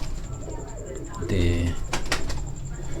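Pigeons in a pair cage coo in a short burst of low, throaty calls close by, amid background noise and a brief spoken word.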